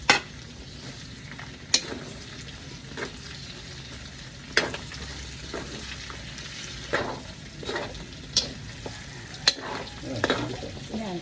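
Garlic and onion fry in a pan, a steady sizzle broken by sharp clacks of a utensil stirring and scraping, close and without talk.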